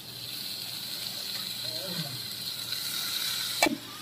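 Cut potatoes drop into hot frying spice paste for a Bengali morola fish jhal, giving a steady soft sizzle throughout with a brief clatter near the end.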